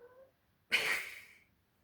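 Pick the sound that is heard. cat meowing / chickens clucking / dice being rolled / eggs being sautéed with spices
cat meowing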